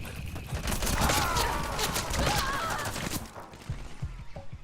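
Rapid gunfire from the video game Metal Gear Online, a sustained loud volley of shots with clattering impacts over game noise, then thinning to a few scattered bangs near the end.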